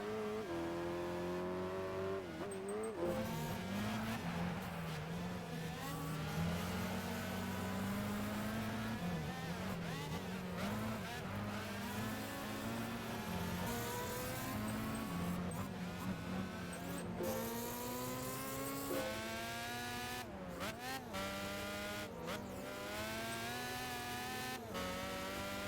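Several race cars' engines drone continuously in the Gran Turismo 5 video game, a steady layered roar with rising and falling revs and gear shifts, close and constant throughout with no talking.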